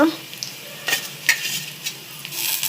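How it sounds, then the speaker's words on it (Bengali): Ginger paste frying in oil for aloo dum, a close, bright sizzle punctuated by a few scraping stirs of a utensil against the pan. "আমি আদা বাটাটা দিয়ে দিয়েছি। দিয়ে আবারও আমি লাল করে ভেজে নেব"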